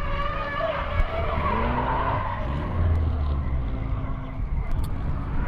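Drift cars, including an SR-engined BMW, slide with sustained tire squeal and roaring engines on a track, a continuous loud skid sound with engine pitch rising and falling.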